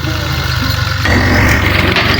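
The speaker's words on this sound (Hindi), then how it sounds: "ज़मीन में हल चलाई जा रही है" A tractor engine runs steadily while plowing farmland at a house construction site in Punjab, Pakistan, a continuous low rumbling drone that grows louder and heavier about halfway through.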